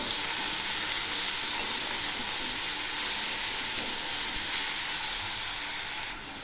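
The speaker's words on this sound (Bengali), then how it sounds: "এখন আমি দিয়ে দিচ্ছি ঘষে নেওয়া আলু আর শালগম। এগুলিও নেড়ে দিচ্ছি।" Grated potato and turnip frying in a pan with a steady, loud, close hiss and sizzle, stirred throughout, with no talking over it.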